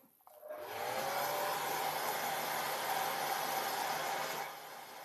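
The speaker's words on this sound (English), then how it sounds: "I'm going to grab the hairdryer." A hair dryer switches on and blows with a steady, loud whirring roar, then its tone drops slightly near the end.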